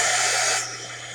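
A heat gun blows steady, loud, close-up hissing air over scrap paper being dried for a handmade journal, then drops to a quieter, still continuous rush partway through.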